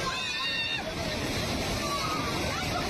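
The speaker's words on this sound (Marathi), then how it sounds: "लोणावळ्यातील बुशी धरण सध्या ओव्हरफ्लो झाले आहे" A continuous, loud roar of rushing water, steady and unbroken throughout, as the overflowing Bhushi Dam in Lonavala pours over its spillway.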